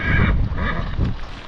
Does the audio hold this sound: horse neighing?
yes